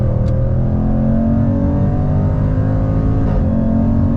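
A 2021 Jaguar F-Pace SVR's engine pulls hard through a gear on the ZF 8-speed, droning loud and steady as pitch climbs toward redline, then a brief shift-like dip near the end.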